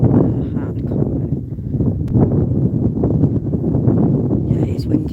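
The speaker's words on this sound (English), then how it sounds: "it's windy as well" Wind buffeting a microphone outdoors beside large buildings, a continuous low rumbling roar under someone talking throughout.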